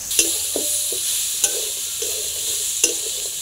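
Fig, potato and chickpeas with spices are stir-fried over medium heat, a steady close sizzle with a spoon scraping and tapping the pan in a loose rhythm, no voices.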